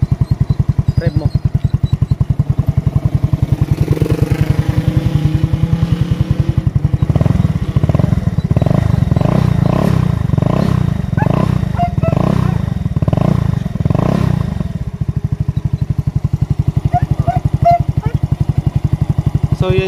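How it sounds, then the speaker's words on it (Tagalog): Mio Sporty scooter engine, running on Extreme 1 ultra scooter oil, idling loud and close, then revving in a series of rising surges through the middle before settling back; someone talks over it. "Yan yung tunog ng makina."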